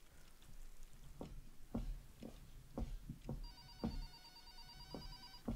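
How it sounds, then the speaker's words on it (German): A telephone rings in the horror cooking video game Horror Noodles, its repeated electronic trill faint beneath low background noise, footsteps and soft thuds. "Telefon."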